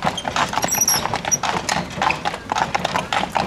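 Stallions' hooves clip-clop in a steady, close rhythm at Negresti Oas in Satu Mare, Romania, with the hoofbeats clear and fairly loud throughout.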